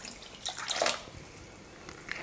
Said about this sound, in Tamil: 3/4 கப் தண்ணி சேர்த்துக்கிறேன்.